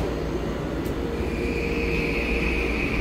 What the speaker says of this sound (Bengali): ট্রেনটা এখনই ছেড়ে দিবে।